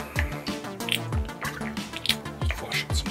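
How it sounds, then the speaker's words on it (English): Airbrush rinse water used for cleaning brushes is poured into a water container, giving close splashing, dripping and gurgling that run continuously for a few seconds. "And I dump it into my water container."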